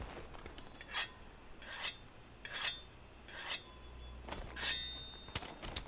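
In Monster Hunter World, a weapon is sharpened with a whetstone, producing a series of about six rhythmic rasping scrapes, evenly spaced and fairly faint against a low background hum.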